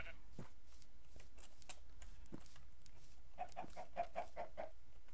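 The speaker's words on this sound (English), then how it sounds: "I hear both clucks." Several short, soft chicken clucks in a video game repeat in a quick series toward the end, over faint background noise and scattered clicks.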